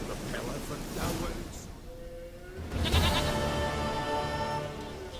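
Goat bleating in The Witcher 3 game, a few wavering nasal bleats in the middle and later part, moderately close, mixed with game ambience and a voice talking.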